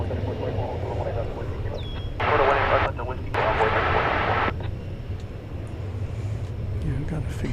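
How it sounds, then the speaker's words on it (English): An American Airlines Airbus A321 arriving at DFW Airport: a low, continuous jet rumble rolls in the distance, with a brighter, crackly radio-like burst for a couple of seconds midway. "Next to come in, American flight 1780 from Las Vegas, and this will be an Airbus A321."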